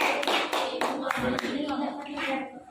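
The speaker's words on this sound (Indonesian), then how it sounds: "Tepuk tangan untuk Alif ya" A classroom of students clapping for a classmate, a short run of fairly quiet hand claps with uneven, scattered strikes, a teacher's voice faintly mixed in as the clapping fades.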